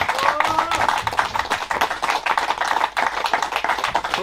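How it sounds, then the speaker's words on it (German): Scattered clapping from a small group outdoors at a Puch Maxi moped race event, uneven and moderately loud, with some crowd noise mixed in. "Ein großer Applaus an das Team Niederösterreich."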